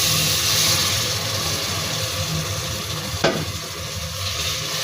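Pilau rice with ground pilau masala and broth being stirred in a pot, a steady low sizzling simmer with continuous scraping and stirring texture and one brief sharp clink partway through.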